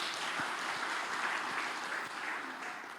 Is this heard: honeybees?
no